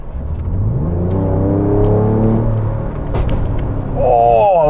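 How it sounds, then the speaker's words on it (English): A Ford Ranger Raptor 3.0-litre twin-turbo V6 pickup revs up close with its exhaust in sport mode, the note climbing and falling in a deep roar, with a second sharp rev rising at the end. "Exhaust in sport mode."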